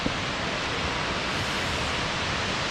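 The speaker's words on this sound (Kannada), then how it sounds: "ಎಸ್, ಇದೆ ಮಲ್ಲಳ್ಳಿ ಫಾಲ್ಸ್." Mallalli Falls roars as a steady, dense wash of falling water, loud and unbroken, with no voices over it.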